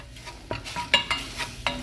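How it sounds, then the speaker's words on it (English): A spoon stirs flour into melted butter in a pan to make a roux for biscuits and gravy, producing a series of close, distinct scraping strokes with light sizzling in between and no talk. "And then we're going to be stirring that in"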